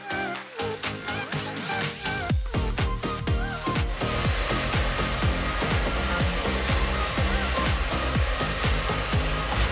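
A hair dryer blows hair dry in a salon cut-and-colour session, a loud, steady, close whooshing roar that shifts slightly in pitch as it moves, continuous throughout with no talking.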